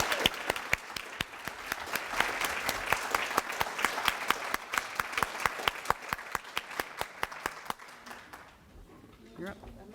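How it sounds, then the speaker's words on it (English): An audience applauds award winners at the 2023 Harford County Leading Women event, a sustained, loud round of clapping for about eight seconds with rhythmic individual claps standing out, then fading to quiet. "Please help me again, everybody, by celebrating with one final round of applause"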